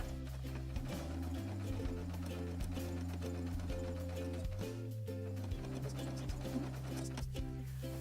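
A sewing machine stitches bias binding onto fabric, a continuous close mechanical hum with rhythmic needle clatter and small speed shifts throughout, without speech.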